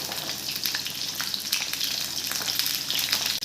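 Shallots and garlic frying in hot oil for a tamarind kuzhambu, a steady, loud bubbling sizzle with crackling spits close by, no talking.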